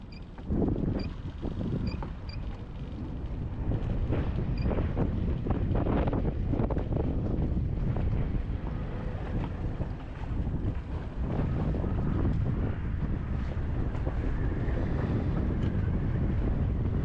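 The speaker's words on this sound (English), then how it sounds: "avvio il motore e mi sposto a tutta velocità, controvento" A Haswing Cayman B 80 lb electric trolling motor pushes a boat at full speed against the wind at sea, its steady whir buried under constant loud wind buffeting and water rush for the whole stretch.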